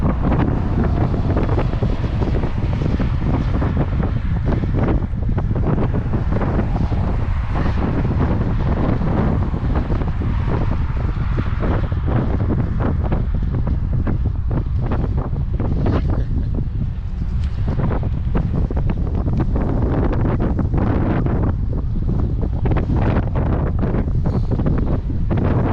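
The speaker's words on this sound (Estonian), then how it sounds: "Isegi kui on tuuline." Strong, steady wind roars across the microphone throughout a bike ride on the way to Laagri school, a continuous low buffeting rush with gusty fluctuations and no speech.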